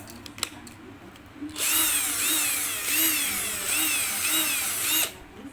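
A battery-powered cordless drill, just fitted with a repaired battery, whirs steadily for about three and a half seconds, its pitch wavering slightly up and down before it stops. The sound is close and loud, with no talk.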